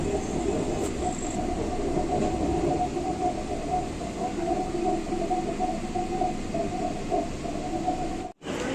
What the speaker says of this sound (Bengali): উত্তরপাড়ার লোকাল ট্রেনের মধ্যে উঠে গেছি এখান থেকে হাওড়া চলে যাচ্ছি